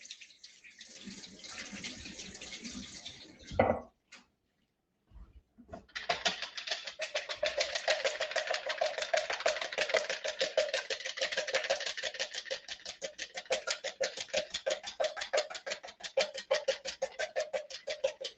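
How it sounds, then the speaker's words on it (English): An egg whisked in a dish, a rapid steady clicking of the whisk against the bowl that starts after a brief pause and runs on evenly, close and moderately quiet. "I'm going to whisk up an egg."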